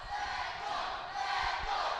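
Wrestling crowd at a Force One Pro Wrestling show roaring and cheering for a championship, a dense, steady wall of many voices that swells slightly partway through.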